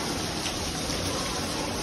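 Heavy rain pours down at a building site foundation, a dense, steady roar of falling water close by with no pauses.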